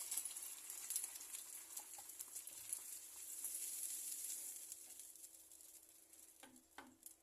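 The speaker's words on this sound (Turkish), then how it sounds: "Yeşil biberleri tereyağında biraz soteledim. Şimdi domatesimizi ilave ediyorum." Tomatoes go into green peppers sautéing in butter for menemen, a faint, steady hiss of frying with light crackles, quiet and close, then a couple of soft clunks near the end, with no voices.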